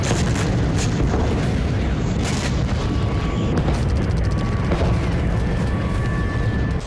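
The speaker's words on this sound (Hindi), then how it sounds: "तभी अचानक धमाकों की गूंज से थर्राने लगा डोनेस्क" Explosions echoing over the city of Donetsk at night, heavy booms rolling one after another with long reverberant tails, loud and dense throughout with no pause.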